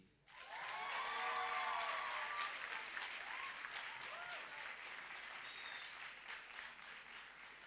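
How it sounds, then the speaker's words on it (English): An audience applauds a student at a science buskers festival awards ceremony, a dense, steady wash of clapping that swells in within the first half second and holds loud throughout, with a few cheers and whoops on top. "A round of applause for Notandom TC."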